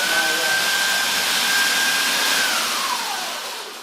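A Ninja blender grinds graham crackers into crumbs with a loud, steady motor whir that holds for a few seconds before its pitch sags as it winds down.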